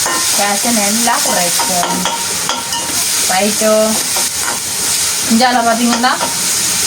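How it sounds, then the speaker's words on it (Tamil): Crushed garlic and pepper sautéing in a pan, a steady sizzle with stirring scrapes throughout, while voices talk over it in the background. "நாங்கள் அடுத்த இடித்து வச்சிருக்கிற உள்ளியும் மிளகையும் போட்டு வதக்குவோம்"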